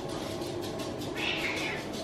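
A house cat meows close by over steady room noise, its drawn-out cry sitting in a busy domestic setting.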